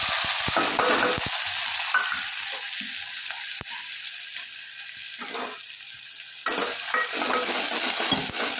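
Dry garlic and green chillies tempered in hot oil, with no mustard or cumin seeds: a loud, steady sizzle with stirring scrapes and a few utensil clinks, heard close and alone.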